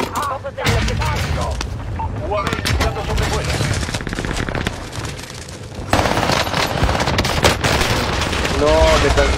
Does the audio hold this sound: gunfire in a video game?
yes